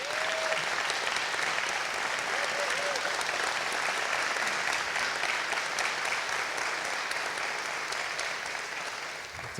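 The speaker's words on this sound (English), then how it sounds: "I would like us to welcome with a round of applause and have them stand up." A church congregation applauds, dense sustained clapping from a large indoor crowd that carries on steadily for the whole stretch.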